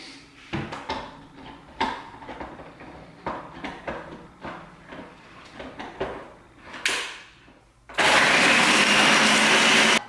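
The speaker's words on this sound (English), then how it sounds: "I'm gonna blend this." A kitchen blender whirs on loudly and steadily for the final two seconds, following scattered clatter, thumps and handling noises of ingredients being prepared.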